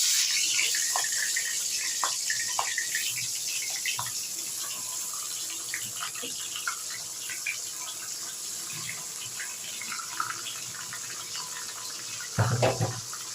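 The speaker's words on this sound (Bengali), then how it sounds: "আমি এক এক করে মাছের মাথাগুলোকে এবার ভেজে নিচ্ছি একটু লাল লাল করে ভেজে নেবো" Rohu fish heads frying one by one in hot oil, a steady hissing sizzle that holds throughout, with a brief louder clatter near the end.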